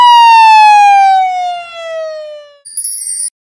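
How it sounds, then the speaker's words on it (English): A single loud ambulance siren tone sliding slowly downward, clean and close, followed by a short bright chime. "Ambulance."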